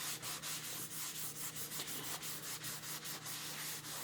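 A cloth buffs applied wax on a surface in steady, rapid back-and-forth strokes, a soft continuous close rubbing hiss with a regular pulsing rhythm.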